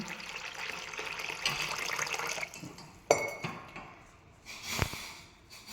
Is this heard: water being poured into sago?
yes